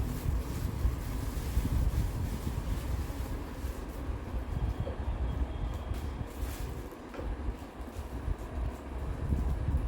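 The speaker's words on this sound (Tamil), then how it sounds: "காற்று" Strong wind roars steadily across the microphone, a dense low rumble with gusts swelling and easing throughout, with no voices.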